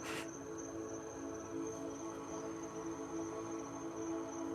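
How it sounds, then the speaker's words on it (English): Crickets near woods chirp continuously in a dense, high, steady drone, with a brief tap at the start and a quiet low hum beneath. "you'll be able to enjoy the crickets because I have the woods near my house"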